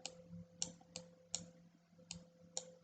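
A computer mouse clicking during an online maths lesson, six crisp, evenly spaced clicks close by over faint background hum, with no talk.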